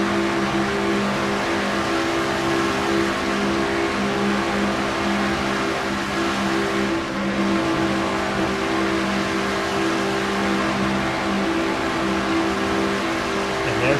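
Steady, droning race car engine heard from on board at Talladega in a racing video game, a loud, even mid-pitched roar with sustained harmonic tones holding constant throughout, with faint commentary-like voice underneath.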